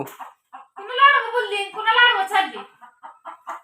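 Hens cluck and squawk up close in a few drawn-out, throaty bursts, with short quieter calls before and after.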